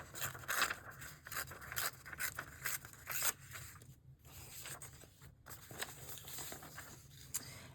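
Paper is torn by hand in a series of short, close ripping and scratchy tearing strokes, steady and fairly quiet, with brief pauses between pulls and no talking.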